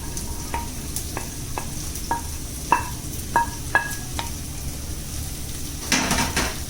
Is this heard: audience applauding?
no